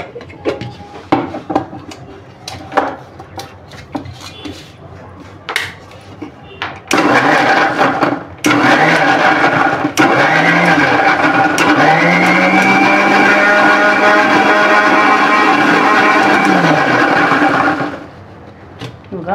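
A mixer grinder blending tomatoes, starting after several knocks and clicks, then a loud steady whirring motor that rises and falls in pitch as the load changes, running for about ten seconds before cutting off.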